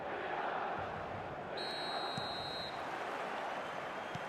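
A stadium crowd in the eFootball video game roars as a steady, dense wash of cheering with a faint whistle partway through.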